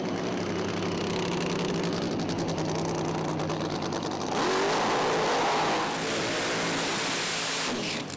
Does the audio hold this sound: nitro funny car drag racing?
yes